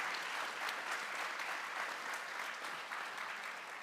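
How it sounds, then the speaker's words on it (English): An audience at an energy innovation forum applauds the panel discussion members with faint, even, continuous clapping from a distant crowd throughout. "So a round of applause to our dear panel discussion members."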